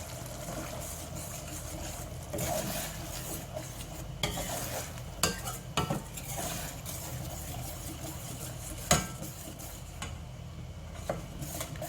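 Green curry with coconut milk is stirred in a pan, giving a steady bubbling sizzle with repeated scraping strokes and a few sharper clinks of the spoon, no talking.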